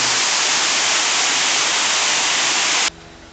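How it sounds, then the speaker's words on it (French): Steady loud rush of a waterfall cascading beside an amusement park queue at Port Aventura, a dense, even wash of falling water that cuts off abruptly near the end, leaving a faint, quieter background. "Avec des cascades."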